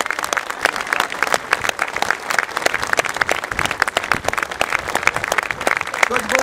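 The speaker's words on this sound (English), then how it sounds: "Ladies and gentlemen, please give a massive round of applause" A large outdoor crowd of Leeds supporters applauds steadily at a statue unveiling, dense continuous clapping close and loud throughout with no pause.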